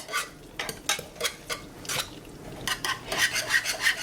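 A whisk scrapes rhythmically through thickening grits in a pot, a close series of rasping, scratchy strokes that quicken toward the end, with no talking.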